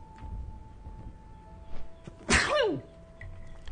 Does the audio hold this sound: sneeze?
yes